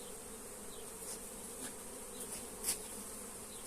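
Dense, steady droning of honey bees around a hive as comb frames are shaken off, a continuous close buzz with a few louder passes of individual bees near the end.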